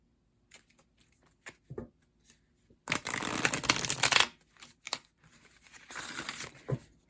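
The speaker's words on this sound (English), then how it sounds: "This one more shuffle." Tarot cards shuffled in two loud riffling bursts, close up, with lighter card handling and taps between them and no talking.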